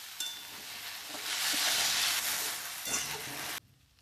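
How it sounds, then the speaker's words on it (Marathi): Okra (bhindi) stirred and fried in a pan: a loud, close hissing sizzle swells in the middle with a few stirring scrapes, then cuts off abruptly near the end. "भेंडीचा पूर्ण तिखटपणा जाईपर्यंत भेंडी हलवून घ्यायची."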